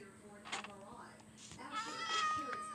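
Several meows from cats in the Minecraft video game, a few short calls overlapping one another under a person talking.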